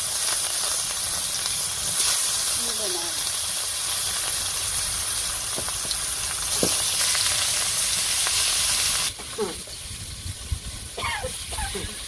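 Fish fries with chili in hot oil in a village kitchen, a loud continuous sizzle and hiss close by, with occasional clatters and a drop in intensity partway through.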